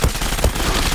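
Gunfire from a competitive match in the online shooter Zula: two sharp bursts of shots, one at the start and one midway, over a busy game mix with no speech.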